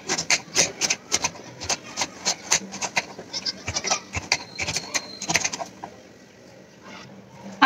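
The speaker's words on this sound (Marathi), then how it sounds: "मला किसण्यापेक्षा हे सुरीवरती कापण्याचा टास्क ठीक वाटतो" Dried coconut is cut with a knife, a fast run of crisp chopping taps close by that thins out and stops near the end.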